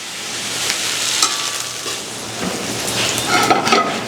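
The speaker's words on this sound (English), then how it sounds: "Yep, we can scrape it in, the ceramic. It's not Teflon. And give it a stir." A utensil stirs and scrapes chicken sauce in a ceramic non-stick pan, soft scraping strokes and light clinks over a gentle sizzle, close and alone.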